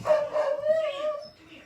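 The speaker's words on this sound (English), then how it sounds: "Oh, my poor puppy misses his Jackie." A dog barks and whimpers in short whiny yelps, close and fairly loud, the cries rising and falling over under two seconds with no talk.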